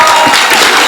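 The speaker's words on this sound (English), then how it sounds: "I would like to give a big applause." Audience applause for two Dutch parliamentarians at a Tibetan commemoration event, a brief, loud burst of many hands clapping together.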